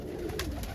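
A roller pigeon coos in short soft pulses near at hand, brief and alone with no talk over it.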